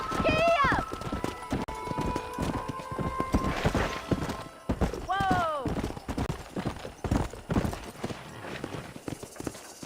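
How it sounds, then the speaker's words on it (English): Horse hooves galloping in the Red Dead Redemption video game, with rapid, loud clip-clop beats running throughout and a couple of whinnies, under a rider's shouted commands. "Come on! Giddy up! Whoa!"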